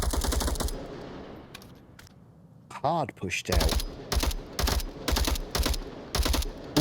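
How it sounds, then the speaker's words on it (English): Bursts of automatic gunfire in the VR shooter Onward during a competitive VRML match, rapid repeated volleys after a commentator briefly speaks, loud and close with short gaps between bursts. "All the gunfire coming from Nat Dog over on the north here."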